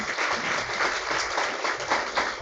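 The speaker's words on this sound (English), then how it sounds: "let's welcome him with a big round of applause" Audience at a university research writing workshop gives a big round of applause to welcome a speaker, a steady, fairly loud wash of many hands clapping with no talk over it.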